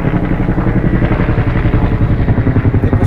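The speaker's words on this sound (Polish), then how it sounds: "Słychać helikopter, coś się dzieje." A helicopter flies overhead during wildfires in dry Albanian countryside, a loud, steady, rhythmic thumping churn that fills the whole stretch without a break.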